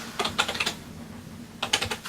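Two quick bursts of typing on a desktop computer keyboard that is not working, crisp close clicks separated by a short quiet gap.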